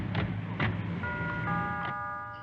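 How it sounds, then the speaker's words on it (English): Door bell and buzzer from the 1967 Jacques Tati film Playtime: a couple of soft dull knocks, then a sustained electric tonal buzz that holds for about a second before fading, no talk. "Apparently, a door needs a bell and a buzzer."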